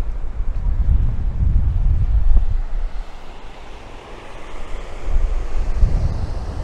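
Rapids on the Mekong River along the Laos border, heard from a boat as a steady rush of churning water with wind buffeting, swelling and easing over several seconds.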